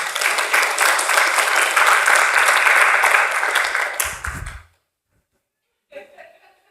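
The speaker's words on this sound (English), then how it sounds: "big round of applause for everything that she's done here" An audience at a corporate innovation summit applauds loudly and steadily for several seconds, then the clapping stops abruptly, leaving near silence before a brief faint rustle.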